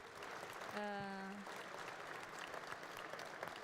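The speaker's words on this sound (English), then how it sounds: "Give all the panelists a big applause." Audience applause for the panelists at a plenary session of a higher education and research conference, a quiet, distant patter of clapping from a hall, with a brief sustained tone near the start over it.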